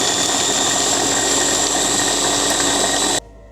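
An electric kitchen grinder whirs steadily and loudly as it blends coconut, chickpeas and herbs for chutney, then cuts off abruptly near the end.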